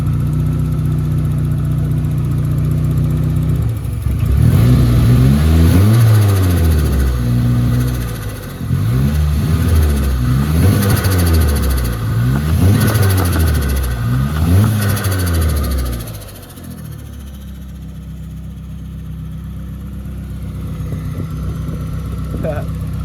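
A turbocharged KA24E-T Nissan 240SX engine with a newly replaced turbo revs repeatedly in rising and falling bursts, loud and close, burning off new heat wrap, then settles to a steady idle rumble.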